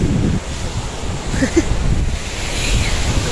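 Ocean waves washing onto a sandy beach, a steady broad rush of surf mixed with wind buffeting the microphone, with no clear talk.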